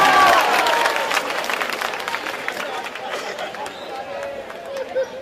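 A political rally crowd claps steadily and loudly at first, the applause tapering off over several seconds while a speaker's voice carries on over it.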